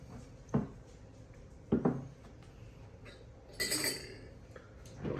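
A spoon mixes ferrofluid into two tablespoons of oil in a dish, giving a few sharp, separate clinks and scrapes against the container over a quiet background.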